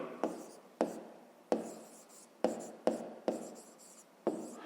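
Numbers written by hand while working a fifth-grade math exercise: about seven crisp, close strokes tap and scratch across the surface in an uneven rhythm, each fading quickly into a soft rubbing tail.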